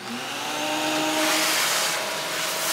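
A vacuum cleaner runs steadily for a few seconds, a loud even whir with a slight rise and fall in pitch and no voices over it.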